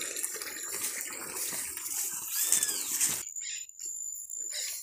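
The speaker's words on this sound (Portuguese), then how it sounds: "Essa mangueira aqui. Tá vindo por gravidade, né? Essa água aqui." Water runs by gravity from a hose into a fish tank, a steady splashing rush for about three seconds that then cuts off abruptly, leaving a faint trickle.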